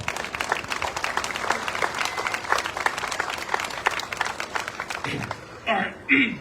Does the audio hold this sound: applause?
yes